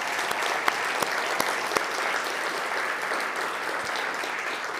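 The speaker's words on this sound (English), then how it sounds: "So huge round of applause to everyone that actually took part in making this happen." A conference audience at NixCon 2024 gives a sustained round of applause, dense and steady throughout with a few sharper individual claps standing out, and no speech over it.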